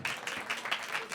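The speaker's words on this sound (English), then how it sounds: "Please give them an applause." Audience applause at a conference session, a brief burst of clapping that stays even and fairly close throughout.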